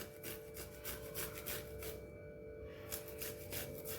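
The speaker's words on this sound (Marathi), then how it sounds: "आणि त्याचबरोबर आपल्याला थोडं अद्रक पण किसून घ्यायचं आहे" Fresh ginger is rubbed over a kitchen grater in steady back-and-forth rasping strokes, close and moderately quiet, with a brief pause midway and no talking.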